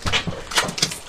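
Dogs being let into a house make a brief burst of scuffling and soft whimpering noises near the door, with a few short bursts of activity across roughly a second.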